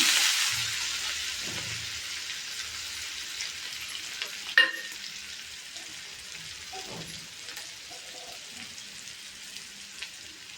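Sizzling of a coriander, garlic, green chili and cumin paste frying in a pan for Maharashtrian kadi, a steady hiss with a couple of brief clinks and stirring scrapes.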